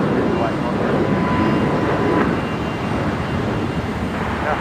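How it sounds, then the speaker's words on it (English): A Qantas Link Embraer jet taking off full length at night at Brisbane Airport, a loud, broad engine roar that holds steady throughout, with voices talking faintly over it. "to depart is actually going to be a Qantas Link Embraer, which is departing full length"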